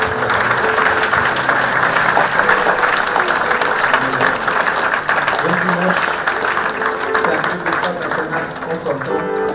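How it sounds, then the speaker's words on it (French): A church congregation claps together in sustained applause with faint tapping, while music and voices carry on underneath. "On peut applaudir le Seigneur."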